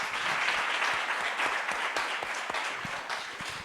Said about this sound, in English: So please join me in giving a round of applause to our panelists.